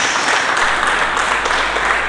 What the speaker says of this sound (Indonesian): Berikan tepuk tangan dulu bagi Yesus Kristus.